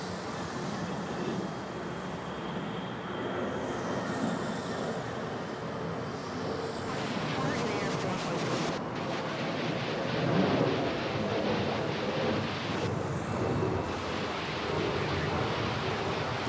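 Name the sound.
Philippine Airlines airliner bound for Iloilo at Manila Airport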